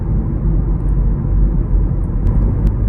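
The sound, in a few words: Volkswagen T-Roc interior road noise at 40 km/h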